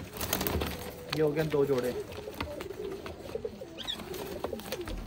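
Pigeons coo in a loft of different pigeon generations, low murmuring calls rising under close, steady talk from a man.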